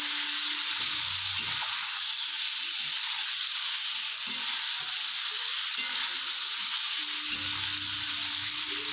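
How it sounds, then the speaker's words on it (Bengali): Chicken pieces sizzle steadily in a hot pan with salt and turmeric while being stirred and sautéed, a continuous close frying hiss broken by occasional low scraping of the spoon, with no voices. "তো এই যে নুন আর হলুদ আমি পরিমাণ মতো দিয়ে আবারও এটাকে ভালো করে নেড়েচেড়ে কষিয়ে নেব।"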